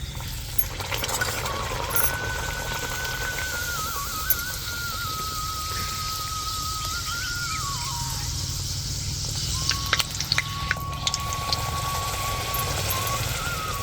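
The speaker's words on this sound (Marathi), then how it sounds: "त्याच्यात पुऱ्या सोडून घेते आता तळून घेते" Puris deep-frying and puffing in hot oil give a steady, dense sizzling hiss throughout, with faint clinks and a thin whistling tone drifting above the bubbling.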